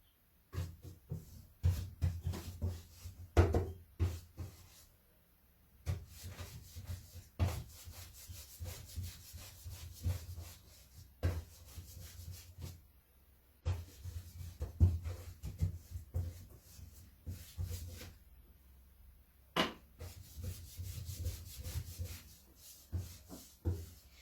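Annie Sloan white wax being buffed onto painted furniture: steady, close rubbing strokes of cloth on wood in long continuous bursts, with short pauses between passes.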